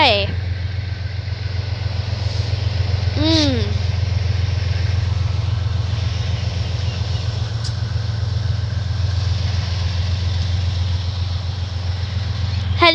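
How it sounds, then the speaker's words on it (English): Aurizon 2800 class diesel locomotive starting up: a deep, steady low engine rumble builds and runs throughout at close range, with people talking over it. "That's the startup of a 2800, eh?"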